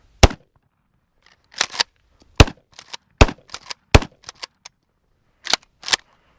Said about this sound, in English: Well, now I can't aim down the barrel, so I guess we'll just keep hip firing